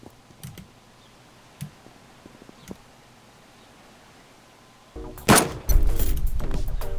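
A single sharp rifle shot in the survival game Subsistence, loud and close, then rustling and clatter after a quiet stretch of faint clicks and small taps.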